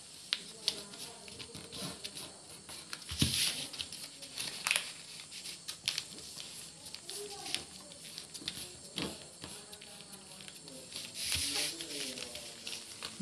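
Sheets of paper are creased and folded into a carry bag, with soft crinkles, rustles and occasional sharp crisp snaps scattered through a quiet, close setting.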